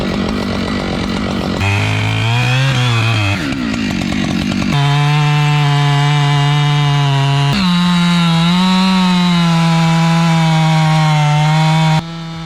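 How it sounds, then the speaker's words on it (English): A Husqvarna 592 XP chainsaw bites into heavy wood, its loud engine holding a high, steady buzz that dips and recovers under load, then surges to a sustained cutting pitch before cutting off near the end. "The Husqvarna 592 XP through heavy wood like it's routine."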